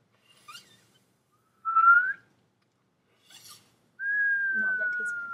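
Someone attempts to whistle with two short, thin tones, the second held longer and wavering slightly, between soft breathy sounds and bits of speech.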